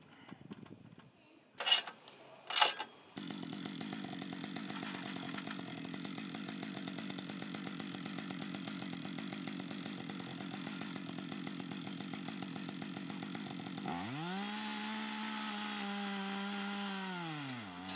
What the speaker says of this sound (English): Alright, well I think the saw's on.